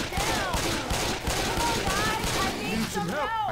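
Gunfire in Left 4 Dead 2 in a mall setting, dense repeated shots crackling continuously with players talking excitedly over it.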